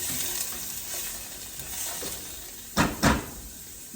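Vegetables sweating and sizzling in a pot for chicken and dumplings give a steady hissing fry, with two sharp clattery stirs or pot knocks near the end; nobody speaks.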